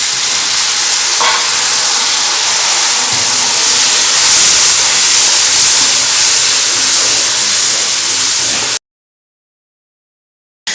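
Loud steady sizzle and hiss as a little water hits a hot pan of chilli and salt, close and continuous for most of the clip before cutting to silence near the end.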